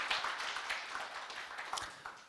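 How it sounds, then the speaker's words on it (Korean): A lecture-hall audience claps together in a steady, soft patter of applause that stays fairly even, with a few sharper claps rising above it. "박수 한번 보내주시기 바랍니다"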